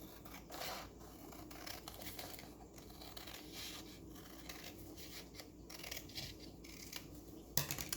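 Scissors cutting an extra strip off a folded paper square, close and quiet snipping and rustling strokes with a sharper snip near the end.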